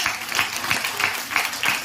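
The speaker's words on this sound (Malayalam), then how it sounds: "സാരംഗിക്ക് നല്ലൊരു ബിഗ് ക്ലാപ്പ്" An audience of children and adults at an AIDS Day kathaprasangam gives a round of applause for a young girl, with several loose bursts of clapping at moderate distance.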